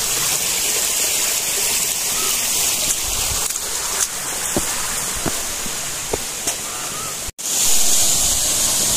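Steady, loud rushing of a stream and waterfall on a forested trekking trail near Ağva, Istanbul, a continuous broadband roar with a few faint clicks and no speech.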